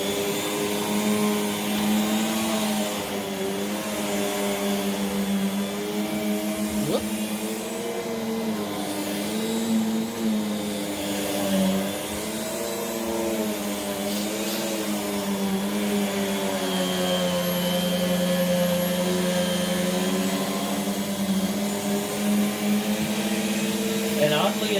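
A refurbished 1989 Rainbow D4C vacuum cleaner runs continuously with a loud, steady motor whine and a tonal hum that wavers slightly in pitch, and a voice talks over it throughout.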